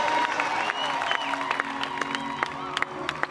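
A large crowd claps and cheers at a night-time gospel praise event in Uhuru National Stadium, heard from a distance: steady applause with scattered sharp whoops and ululating shouts, and voices under it.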